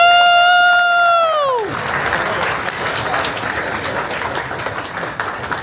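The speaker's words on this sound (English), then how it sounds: "Applause for your KNOEBELS team." A crowd at Knoebels Amusement Resort claps and cheers for the Knoebels team, with broad, steady applause that follows a fading electronic tone and carries on at a lively, even level to the end.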